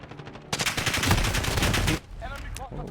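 Dense automatic gunfire in Call of Duty rattles loud and close for about a second and a half, then cuts off, leaving quieter game sounds and a voice at the end.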